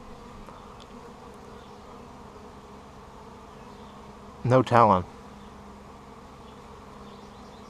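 Honeybee drones fly around the hives on mating flights, making a continuous, moderately loud buzz throughout, with a voice briefly speaking over it partway through.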